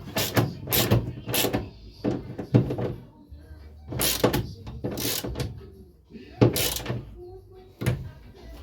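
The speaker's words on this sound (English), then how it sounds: "you don't want to tighten one side up until the other side's tightened up as well" Bolts on a car gear selector are tightened while a 1.8T 20V MK4 Golf selector is fitted into a MK2 Golf, giving repeated metallic ratcheting clicks and clunks in short bursts, close by, with voices talking in between.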